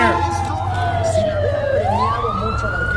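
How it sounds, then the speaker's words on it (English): Ambulance siren wailing in a city street in Los Angeles, a loud sweeping tone that dips and rises again over steady traffic rumble, with voices talking nearby. "It's an ambulance"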